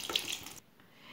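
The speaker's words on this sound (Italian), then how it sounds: "delicatamente, vado a versare all'interno tutto il composto" A wet vegetable mixture is poured gently into a cloth-lined colander, a short soft splashing pour that stops abruptly partway through, leaving quiet.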